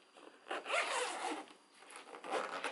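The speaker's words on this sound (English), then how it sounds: "and you just zip it down" A zipper runs along the cover of a Chicco NextFit Zip convertible car seat, two close raspy pulls with a short pause between, quiet and without talk.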